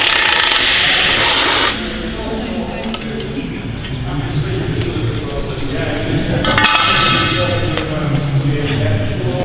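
A ratchet clicks in quick bursts as the differential bracing bolts come off a Ford Escort rally build with a Subaru Impreza swap, loud and close, mixed with metallic clanks and workshop noise.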